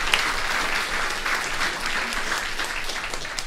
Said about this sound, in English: And again, a warm applause for Florentina, please.